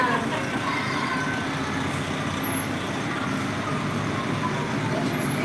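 Volunteer fire department trucks roll past in an Armed Forces Day parade in Trinidad, Colorado, a steady loud rumble of heavy engines with faint high squeals of brakes.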